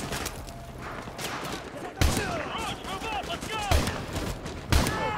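Gunfire in the video game Modern Warfare 2 Remastered crackles in steady rapid fire, punctuated by a few heavier, sharp shots, with faint voices and game sounds underneath.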